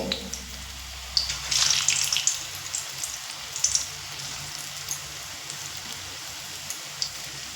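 Yam and lentil dumplings deep frying in hot oil over a medium flame, a steady close crackling sizzle with brief louder bursts of bubbling.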